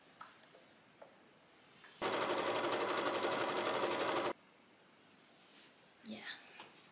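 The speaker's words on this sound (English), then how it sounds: "Let's sew 4 scraps now." A sewing machine stitching fabric scraps runs in one steady, fast-whirring burst of about two seconds, its rapid needle rhythm loud against a quiet room, with faint soft handling noises before and after.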